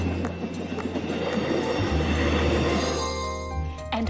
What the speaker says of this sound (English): if you'll excuse the noise of the trains.